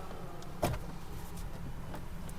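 The electric sunroof of a Tata Punch EV Empowered Plus closes with a steady low motor whir inside the car cabin, with one soft click near the start, all at an even moderate level.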